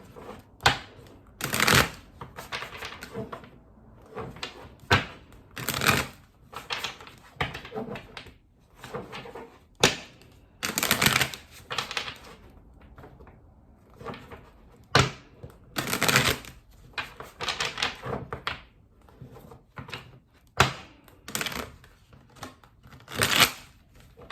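Tarot cards are shuffled by hand in repeated bursts, crisp riffling and slapping sounds coming every second or two, close and fairly loud with quiet pauses between, no talking.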